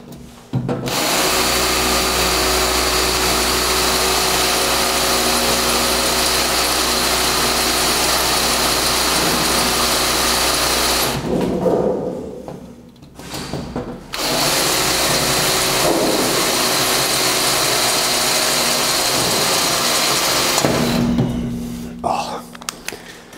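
Power drill boring a 3.5 mm hole in preparation for cutting an M4 thread, a steady loud motor whine running continuously with brief pauses where the drill stops and restarts.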